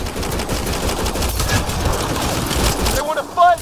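Dense automatic gunfire during a firefight in Mass Effect: Andromeda, rapid loud bursts forming a continuous rattle that stops abruptly near the end, followed by brief voice sounds.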